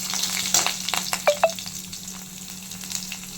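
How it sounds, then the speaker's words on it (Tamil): Garlic and a slit green chili frying in hot oil, a steady close sizzle with a few sharp crackles and pops, no voices. "பூண்டு கோல்டன் ஃப்ரை வந்துருச்சு இதில் ஒரே ஒரு பச்சை மிளகாய் கீறி போட்டிருக்கேன்"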